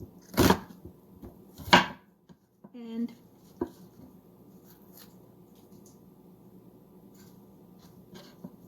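A knife cuts through an onion in a few sharp, close strokes near the start, followed by quieter scraping and handling, with a voice talking at points.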